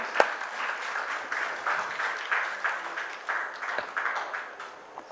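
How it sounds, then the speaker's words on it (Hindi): Audience applause at a Hindi book launch, a fairly quiet, steady patter of many hands clapping in a hall, pulsing slightly with a sharper clap at the end. "हम लोग तालियों स्वागत करें।"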